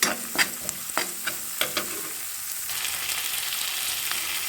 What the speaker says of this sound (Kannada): ಈರುಳ್ಳಿ ಚೆನ್ನಾಗಿ ಕಲರ್ ಚೇಂಜ್ ಆಗೋವರೆಗೂ ಇದನ್ನು ಚೆನ್ನಾಗಿ ಹುರ್ಕೊಳ್ಳಿ